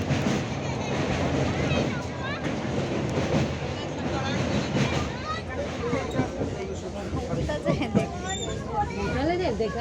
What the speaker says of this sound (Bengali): এই যে ট্রেন ছাড়লো, ছাড়ার পরে আমরা এখন ট্রেনে করে যাচ্ছি ক্ষীরাই।